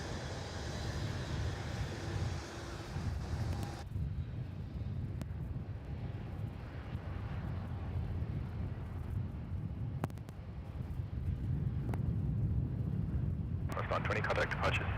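Airliner on its takeoff roll from runway 34 at Melbourne Airport, a steady broad jet roar heard from a distance, continuous throughout with a brief clatter near the end.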